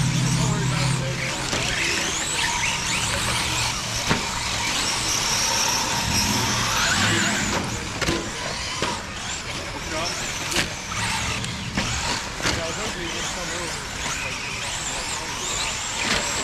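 4WD short course radio-controlled race cars race in a qualifier, their motors whining and buzzing continuously at mid distance while a commentator talks over the action throughout.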